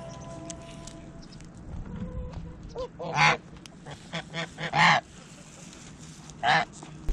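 Geese on a small farm honk in several loud, separate bursts while driving goats away, the calls coming close and irregular over a quieter background of hens and yard noise.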